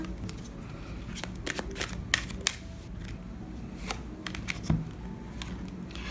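Tarot cards shuffled by hand at close range, with soft repeated riffling and sharp little flicks and taps in an irregular rhythm over a quiet room background.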